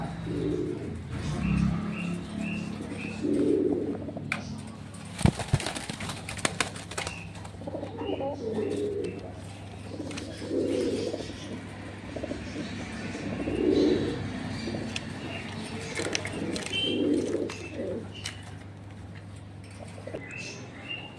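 American Lakkha pigeons in a pet shop coo in soft, repeated phrases over a steady low hum. The coos come up every few seconds, fairly close, with a brief flutter or clatter near the start.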